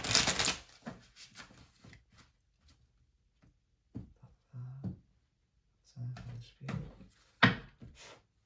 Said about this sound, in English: let's pull some no contact cards really quickly